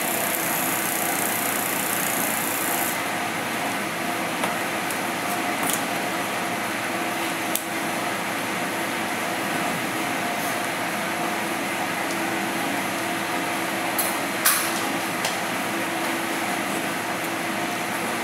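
An experimental DC motor with a single coil and a single magnet spins at about 3000 RPM, giving a steady, even hum with faint clicks and ticks on top, close by and with no speech.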